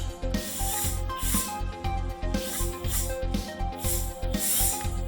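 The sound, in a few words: drilling ventilation holes in homemade face shell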